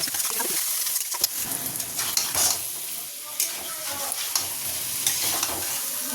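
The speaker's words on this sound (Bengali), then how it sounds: "এবার এটাকে খুব ভালোভাবে কষাতে হবে, যাতে সব কাঁচা গন্ধগুলো চলে যায় আর একদম ভাজা ভাজা হয়ে যায়" Green chili and tomato paste fry in a pan with a continuous sizzle, broken up by the scrape and clatter of a spatula stirring it, close and alone.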